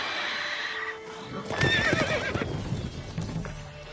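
A horse whinnies loudly in a wavering neigh, with hooves clopping and shuffling around it, close by, in the video game The Witcher 3: Wild Hunt.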